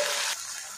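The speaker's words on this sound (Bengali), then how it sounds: "এবার এই তেলের মধ্যে নাস্তাগুলো দিয়ে দেব" Flour snacks (papri) of kneaded atta dough dropped into hot oil, two pieces at a time, give off a loud, steady sizzle that swells briefly at first and then settles into a constant crackling hiss.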